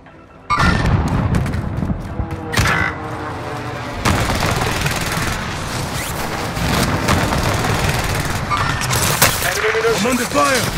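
Gunfire rattles through a Call of Duty plunder match, with dense bursts of shots and booming impacts firing off repeatedly, loud and close, under short spoken game callouts.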